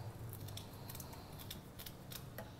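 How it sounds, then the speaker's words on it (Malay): Quiet, sharp snips of kitchen scissors trimming the tail and fins of a pomfret fish, several cuts in an irregular rhythm over a soft background. "Guntingkan ekor dia. Sirip dia. Sirip tepi."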